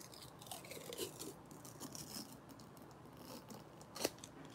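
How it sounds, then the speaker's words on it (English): Protective blue plastic film being peeled slowly off a metal nail stamping plate, a quiet close-up crackling and sticky tearing that ends with a sharper snap. "Give me hearts if you could hear the sound of me peeling away that blue film."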